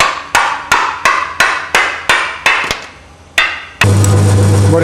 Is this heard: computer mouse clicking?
no